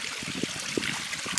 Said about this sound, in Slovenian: potoček oziroma vrtinčenje vode po Rudolfu Steinerju